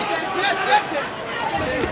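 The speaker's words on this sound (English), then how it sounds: "In front of a huge crowd here at Sydney's Entertainment Centre" A huge crowd fills Sydney's Entertainment Centre during a cruiserweight world championship boxing match, a steady roar of chatter and hubbub with no single voice standing out.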